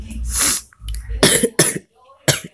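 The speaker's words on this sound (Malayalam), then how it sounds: "ചുമയാണ്" Several harsh, loud coughs burst out close by in quick succession, separated by short breathy gaps.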